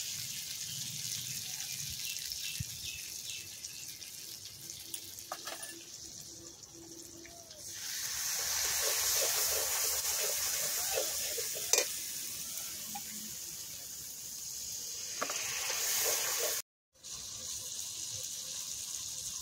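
Water splashed into spice paste frying in a pan for a homemade mutton curry, giving a loud steady sizzle with stirring scrapes, a sharp hiss midway and a brief cut near the end; no talking.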